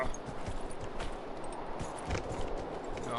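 Horse hooves clip-clop faintly in Dragon Age Inquisition, soft uneven steps over a low, steady ambient bed.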